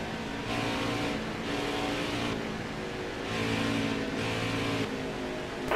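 Race car engines roar steadily in the NASCAR Heat 4 racing video game as a stock car approaches pit road, a continuous loud drone with slight rises in pitch and no talk over it.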